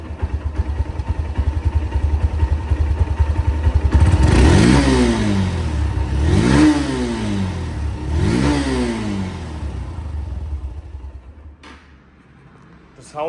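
A Honda CB Hornet double-disc motorcycle engine idles, then revs sharply three times in rising and falling sweeps, loud and close, before settling back to a low idle.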